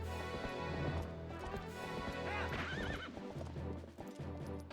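A horse in Zelda Twilight Princess gallops with steady clip-clopping hooves and lets out a clear, wavering whinny midway, all under the game's background music.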